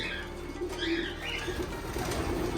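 Pigeons in an aviary, a white pair among them, make steady fluttering wing flaps with a few soft coos over a constant busy background.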